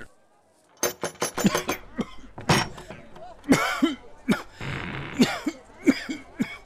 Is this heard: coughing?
yes